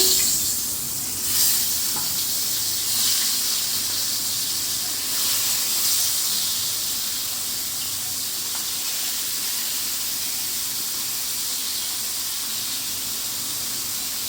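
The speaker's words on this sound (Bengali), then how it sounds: "মাছটি একটু ভাইজা নিই" Fish rubbed with turmeric and salt sizzles and spits in hot oil in a pan, a steady close hiss with a few louder crackling bursts early on, continuing evenly with no talking.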